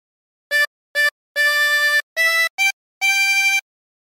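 A chromatic harmonica plays the opening phrase of Mary Had a Little Lamb: six clear reed notes, two short then a long held one, followed by a pair of brief notes and a final sustained tone, solo and close.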